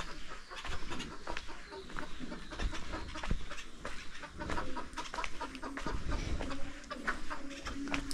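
Chickens cluck in short, scattered bursts in a Konkan village setting, close by and fairly quiet, mixed with rustling and background bustle.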